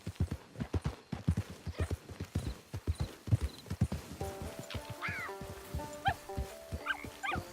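Horse hooves clip-clop steadily on the ground in the Red Dead Online video game, a brisk rhythmic trot heard up close alongside faint background game music.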